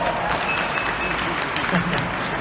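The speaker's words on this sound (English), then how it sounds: "A smattering of applause." Light scattered clapping from a small audience, a few hands patting briefly and unevenly rather than a full ovation.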